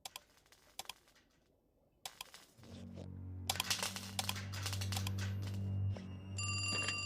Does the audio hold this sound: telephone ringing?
yes